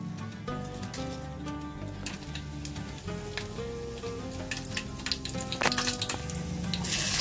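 Whole spices crackle and sizzle in hot oil in a pot, with a steady frying hiss, scattered pops and stirring clinks that grow busier toward the end.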